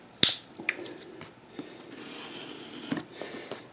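Cardboard packaging around a boxed Corsair AX760 Platinum modular power supply being sliced open, a sharp snap followed by scraping, tearing rustles of the box, close and quiet.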